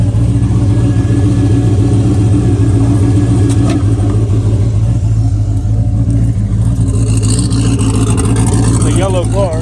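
A turbocharged Ford Mustang Foxbody with a newly fitted bigger turbo makes a full pass, its engine a loud, steady low drone throughout, rising toward the end, with voices faintly underneath.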